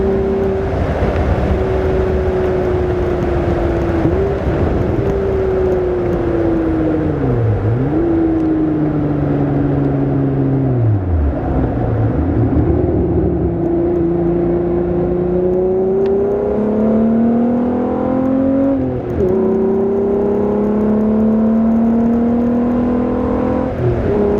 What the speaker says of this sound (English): And that exhaust sound is so good.